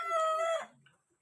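A rooster crows once, loud and close, with a sustained high call that fades into a few soft clucks.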